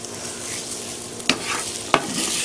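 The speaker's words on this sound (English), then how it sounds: "And you could hear it sizzling because it's a little wet." Wet hash browns spread across a hot skillet fry with a steady low sizzle, broken by two sharp scraping stirs.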